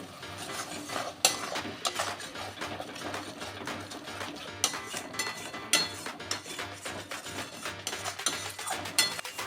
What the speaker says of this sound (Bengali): এবার বেশ করে এটাকে নেড়ে নেব যতক্ষণ না শুকোচ্ছে